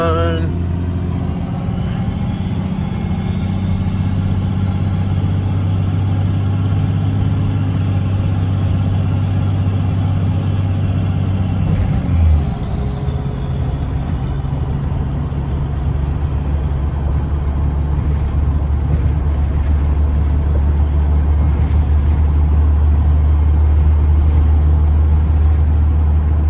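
A 12v Cummins pickup with compound S480 and HE351 twin turbos pulls away from the line, its loud diesel drone rising and shifting midway, heard from inside the cab.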